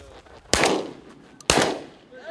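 Two loud, close shotgun blasts fired about a second apart while bird hunting in a field, each a sharp crack followed by a quickly fading echo.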